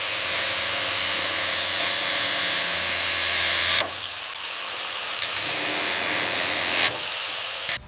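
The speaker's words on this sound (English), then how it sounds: "A powerful steam jet blasts intricate crevices, rapidly purifying an engine component." A steam jet hisses hard against a BMW M3 E46 GTR engine part, a loud broad continuous blast that cuts off abruptly, then resumes in a quieter hiss with short bursts.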